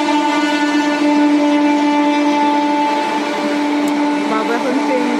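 A train passes nearby, producing a loud continuous mechanical drone with a steady hum and rattling that holds for several seconds, while people talk faintly beneath it.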